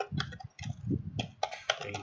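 Quick bursts of light clicking as someone types on a computer keyboard at a steady, close and fairly quiet pace, with short pauses between runs of keystrokes.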